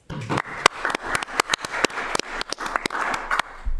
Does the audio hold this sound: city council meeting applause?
yes